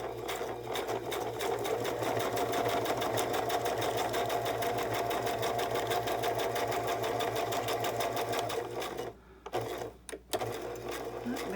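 A sewing machine stitches pockets made from book pages in a steady, close mechanical whir with a regular needle rhythm, briefly pausing near the end before a short burst of back-stitching resumes.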